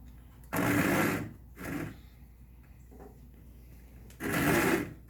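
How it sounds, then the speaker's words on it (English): A handsaw cuts a hole in a small wooden birdhouse piece, close and moderately loud, in three rasping stroke bursts separated by quiet pauses. "I'm going to cut it with a handsaw, because I don't want to cut it with anything else."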